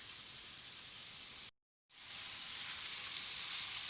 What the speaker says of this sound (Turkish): Mantar, mantar ve etlerimizi orta hararette ısıda kavuruyoruz.